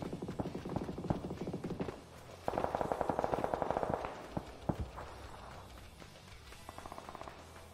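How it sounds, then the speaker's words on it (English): Gunfire in a video game crackles in rapid automatic bursts, heaviest in a dense stretch near the middle, with scattered single shots after it, fairly faint and distant-sounding, and nobody speaking. "There was a lot of shooting in there."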